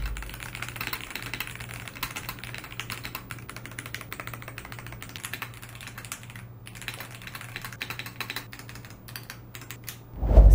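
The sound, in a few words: typing on DAREU mechanical keyboard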